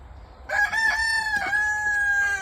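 After a brief quiet moment, a nearby rooster lets out a loud, sustained crow that holds steady to the end, with a little clucking mixed in.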